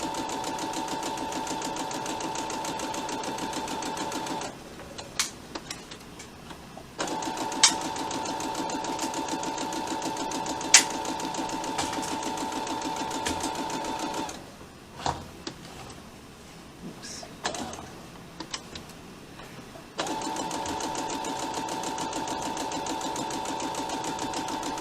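A sewing machine stitches fabric for a face mask on a tight 2 mm stitch, running in long steady bursts of fast, even mechanical chatter that stop twice for quieter pauses with small clicks, close by.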